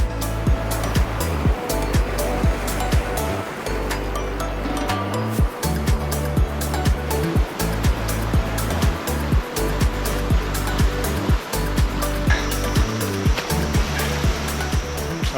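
Sea waves surge continuously against a rocky shore with a flat, wave-eroded rock shelf in Hong Kong, a loud, steady broadband roar with repeated crashes and no clear voices.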